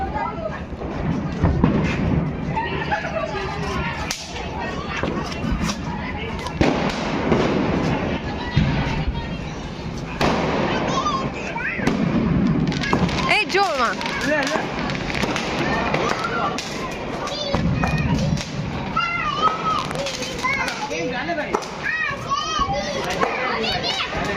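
Diwali firecrackers burst repeatedly at night amid children shouting and talking nearby, the pops and bangs scattered through a busy, noisy scene.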